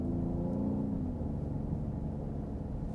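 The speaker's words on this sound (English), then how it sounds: "Love listening to that engine growl as well." A Genesis GV80 SUV engine gives a deep, steady growl with low rumbling harmonics, heard close from inside the vehicle and continuous throughout.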